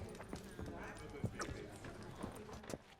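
Horse hooves from The Witcher 3 clop in a quick, uneven rhythm at close range, fairly faint, with voices talking over them.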